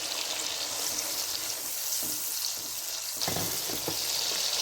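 Spiced masala for okra curry fries in a pan with a bright continuous sizzle, punctuated by several scraping stirs that grow livelier toward the end; no voices.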